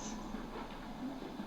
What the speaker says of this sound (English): Everyone recognized being stopped at the railroad crossing when the train comes through.